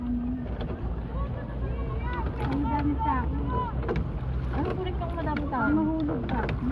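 Riders on a small boat on Burnham Park lake in Baguio City talk and laugh excitedly over steady wind noise and faint water movement.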